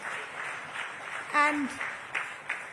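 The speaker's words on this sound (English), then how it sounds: "A huge round of applause for Abhishek." An audience at a business event applauds Abhishek Bachchan with soft, scattered clapping, and one voice is briefly heard over it.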